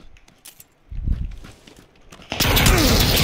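Gunfire in the video game PUBG comes as a dense, loud burst of rapid shots near the end, after a stretch of quieter scuffling and thumps.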